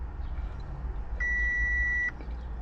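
A diagnostic tool connected to an Audi Q7 gives a single steady electronic beep of under a second as it enters the brake module, heard over faint background hum.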